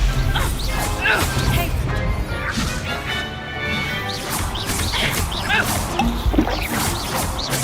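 Spell-casting blasts of the Stupefy stun spell in the Hogwarts Legacy video game, loud sharp crashing impacts and whooshes in quick succession over busy combat effects and game music, with a voice speaking.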